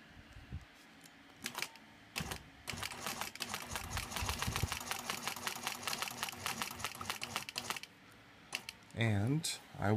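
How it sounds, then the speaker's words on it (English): A sewing machine stitching a quilt block with a ruler runs in a steady, rapid, close whirring chatter for several seconds after a few short starts, then stops, and a voice is heard briefly at the end. "I'm going to go ahead and stitch up to that second corner."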